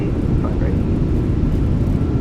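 Loud, steady broadband roar of an Airbus A320 landing rollout with thrust reversers deployed, heard from inside the cockpit as one continuous rushing rumble.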